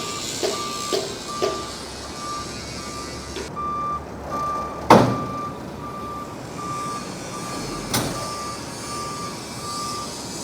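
A heavy Peterbilt truck sounds a steady, repeated backup beeper while it reverses to collect a load, with a low diesel rumble underneath and a few sharp clanks and air-brake hisses in between.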